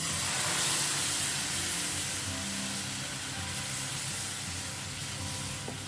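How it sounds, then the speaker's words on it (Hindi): Milk poured into a hot pan of frying squid for a Goan creamy butter garlic calamari dish, giving a loud, steady hissing sizzle that swells early and then settles into a continuous bubbling fry. "तो अब इसमें डालते हैं दूध।"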